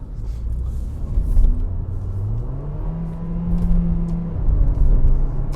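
A 2017 Kia Soul Exclaim with a sluggish twin-clutch transmission accelerating from inside the cabin: a loud, steady low engine drone and rumble whose pitch climbs slowly, then holds, with no talking.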